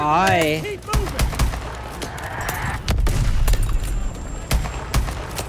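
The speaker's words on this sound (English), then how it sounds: "What the hell was that? Pressure explosions!" Pressure explosions go off in a video game walkthrough as sharp, loud bursts and rumbling booms, with a rising whistle at the start and people's voices mixed in around them.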